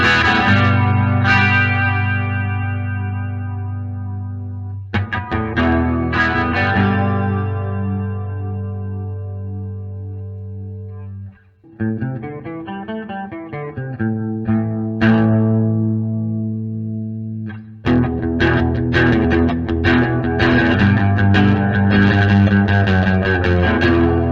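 Electric guitar run through a Small Clone chorus pedal, sustained chords and picked notes with a shimmering, wavering chorus, loud and close, with a short quieter gap near the middle before full strumming returns.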